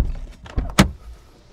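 Someone gets into a 2019 Subaru Crosstrek, a few soft shuffles leading to a sharp, close thump of the car door near the middle, followed by quiet.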